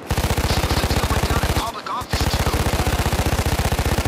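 Rapid automatic gunfire in the video game Payday 2, a loud, steady stream of shots that breaks off briefly midway and then resumes, with a voice faintly underneath.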